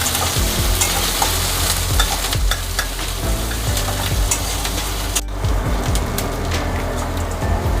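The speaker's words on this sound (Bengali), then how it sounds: "পেঁয়াজটাকে আমি ভেজে নেব" Onions frying in a pan for a Bengali chicken curry, a loud, steady crackling sizzle throughout with occasional scraping as they are stirred, close and with no talking.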